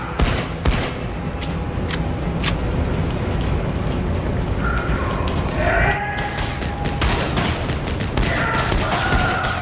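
Gunfire in the shooter SiN Episodes: Emergence, with sharp shots and bursts packed over a dense, loud battle backdrop of explosions and chaotic game noise, no clear speech.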